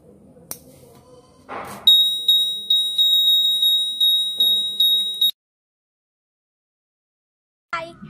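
A loud, high-pitched electronic buzzer on a school science-exhibition earthquake alarm model beeps in rapid pulses for about three and a half seconds, then cuts off abruptly, with faint clicks before and after.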